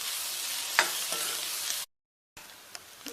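Sweet potato sautéing in a pan is stirred, a close hissing sizzle with a few scraping clinks of the spoon, cut by a short silent gap before the frying resumes more faintly.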